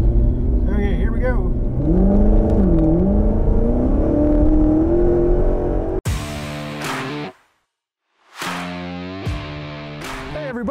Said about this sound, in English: I'm just going to ease into the throttle because I don't want to spin these beautiful, expensive Michelins